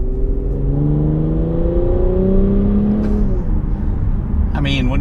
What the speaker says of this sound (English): It does have a nice, decent exhaust drone, especially when you really get on it.